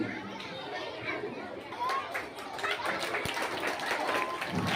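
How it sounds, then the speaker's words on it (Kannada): Schoolchildren clapping for a teacher at a school retirement felicitation, scattered then building applause mixed with children's chatter and playground noise, fairly distant and under a lively crowd. "ಎಲ್ಲರೂ ಜೋರಾಗಿ ಚಪ್ಪಾಳೆ ಹಾಕಿ ಸನ್ಮಾನ ಕಾರ್ಯಕ್ರಮ ನಡೆಸಿದ್ದು"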